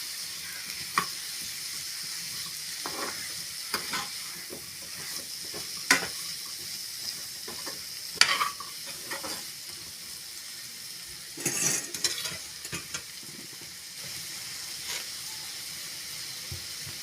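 Cut yam is stirred into frying masala in a pan for a Tamil tamarind curry, with a steady close sizzle broken by occasional scraping clicks of the spoon.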